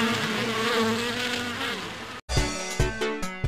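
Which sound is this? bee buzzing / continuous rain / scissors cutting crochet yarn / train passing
bee buzzing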